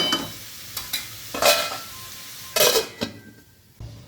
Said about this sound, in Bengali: আমি এর মধ্যে ঝিঙেটা দিয়ে দিচ্ছি।